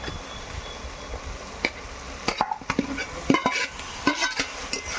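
Yogurt-marinated beef is stirred into oil and fried spices in a pot for a home-style beef chap: steady sizzle underneath, with irregular scraping and spoon clicks breaking through several times, close and alone.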